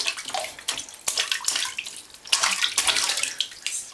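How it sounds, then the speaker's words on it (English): A child splashing water in a bathtub at bath time, choppy bursts of sloshing and slapping water, close and fairly loud, with no voices. "You're splashing."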